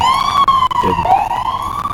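Loud ambulance siren wails close by, a sustained rising and falling electronic tone with a short warble midway, heard alone.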